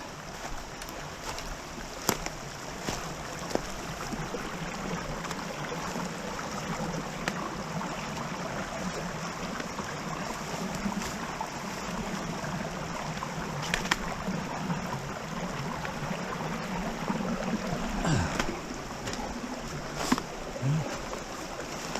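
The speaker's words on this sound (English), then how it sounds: "we're back down the creek. We're gonna make a crossing here" A creek flows steadily over rocks and fallen trees near a waterfall, a continuous broadband rush holding at an even level throughout, with a few brief knocks and splashes from someone crossing.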